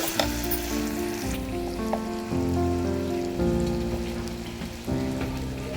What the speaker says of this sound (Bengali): এবার মশলাটা ভালো করে একটু ভেজে নেব।